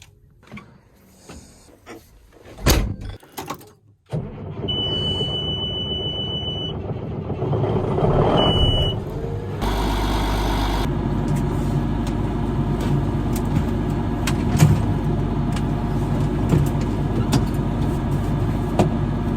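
An old pre-DEF tractor used for spreading lime starts up after a few clicks and thumps, then settles into a steady, close diesel idle with a brief high whine and occasional rattles.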